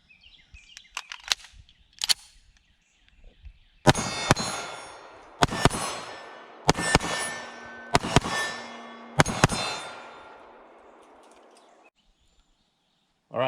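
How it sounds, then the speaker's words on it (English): A CZ 75B Omega 9mm pistol fires at steel targets outdoors: a few faint early pops, then a run of about six sharp, loud shots, each followed by a ringing metallic clang that fades out. "this Cz-75 shooting pretty good"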